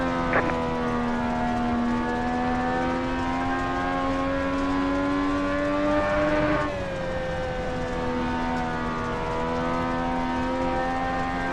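Legends race car engine droning steadily on a dirt oval in iRacing, a sustained buzzing tone that holds pitch, shifts slightly midway as the car turns through the corners, with no talk.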